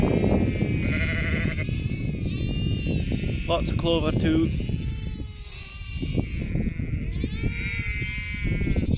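Sheep and lambs bleat repeatedly in a clover pasture, overlapping cries near and far over wind noise, while someone talks throughout.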